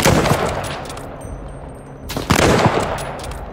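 A gun fires in the Call of Duty: Vanguard video game, a close rapid burst at the start and another loud burst a couple of seconds later, with a quieter lull in between.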